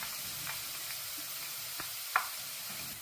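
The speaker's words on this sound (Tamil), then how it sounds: "இப்போ உள்ளி பொறிஞ்சிட்டது" Garlic fries in oil for a meat sambal, giving a steady, fairly quiet sizzle with a few faint clicks and one brief sharp tap as the pan is stirred.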